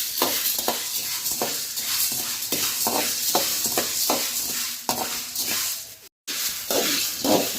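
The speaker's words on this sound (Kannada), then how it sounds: "ಕರಿಬೇವು ಸೊಪ್ಪು ಉರಿತಾ ಇದ್ದೀನಿ, ಕರಿಬೇವು ಸೊಪ್ಪು ಫ್ರೈ ಆಗಬೇಕು ಚೆನ್ನಾಗಿ." Curry leaves and black pepper fry in a pan with a steady sizzle. Rhythmic scraping stir strokes run through it, close and loud, about two per second.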